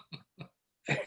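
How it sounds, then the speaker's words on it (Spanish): Three sharp coughs from one person, two short close bursts followed by a longer, harsher one, heard alone without talk. "La tos, por ejemplo, no se puede ocultar"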